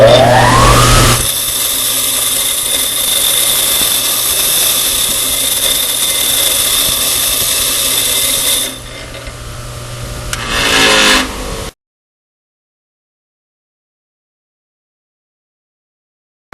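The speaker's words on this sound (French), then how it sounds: "on déplacera de gauche à droite lorsqu'on mettra la meule en fonction, comme ceci" A bench grinding wheel running while sharpening a drill bit, a loud steady whine and rush from motor start-up through about eleven seconds, dipping briefly before it cuts off into silence.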